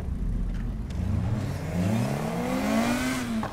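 A Nissan Skyline engine in the racing game Need for Speed Heat revs hard and climbs through the gears in loud, close, rising whines with a rough engine growl underneath.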